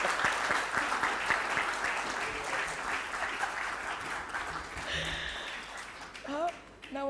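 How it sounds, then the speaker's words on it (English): Audience applause at a book launch in a Mumbai hotel, sustained clapping from a crowd for several seconds that fades out, followed by brief voices near the end. "Now you bloody well clap for me."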